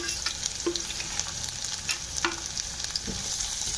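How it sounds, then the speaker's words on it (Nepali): Green chillies frying lightly in a pan, a continuous bright sizzle with small pops and occasional spoon taps against the metal, close and steady with no speech. "हल्का हल्का फ्राई भइसक्यो खोर्सानी, ज्यादा फ्राई नगर्नुहोस्, त्यसलाई हल्का फ्राई गर्नुहोस्।"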